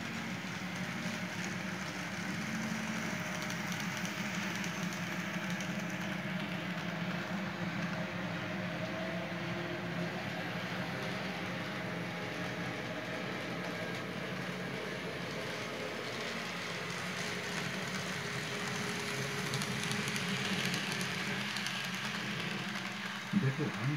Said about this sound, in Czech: Ranní manipulační vlak měl před sebou úctyhodné 93 km až do Červené skaly.